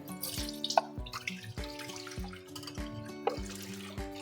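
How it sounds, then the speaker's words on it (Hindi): Leftover lassi (buttermilk) is poured and strained through a large sieve, a steady trickling liquid sound with repeated splashes and drips, close by, with no one talking. "अब ये जो बकाया लस्सी है इसको हम बड़ी छलनी से"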